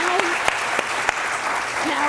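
Dense, steady applause from an audience at a Maine smart-growth annual summit, with a few sharper claps standing out and faint voices mixed underneath throughout.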